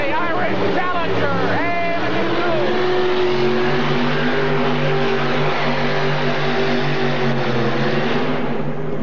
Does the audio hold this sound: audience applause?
no